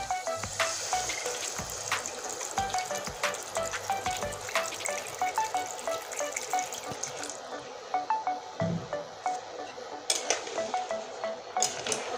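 Water poured into a pan of potato and rupchanda fish curry, a steady splashing stream with clinks of utensil against the pan, close and moderately loud, with no talk.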